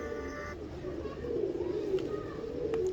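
A fancy high-flying pigeon coos nearby in low, throaty, repeated rolls that grow slightly fuller toward the end, heard alone without any talk.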